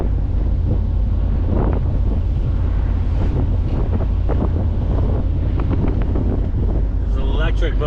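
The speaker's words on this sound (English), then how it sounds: "I've got the windows down, so it's going to start buffeting" Wind buffets through the open windows of a 1970 Chevrolet Corvette Stingray on the road, a loud, constant low roar with steady rumble throughout and faint voice-like sounds mixed in.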